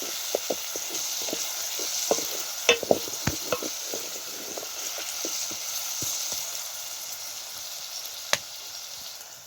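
Onions frying in oil in a pan and being stirred for shiro, a steady soft sizzle with scattered sharp clicks and scrapes of a utensil against the pan, close by, no talk.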